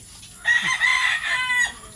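A hen clucks and calls in a few drawn-out bursts, close by and fairly loud, with short pauses between.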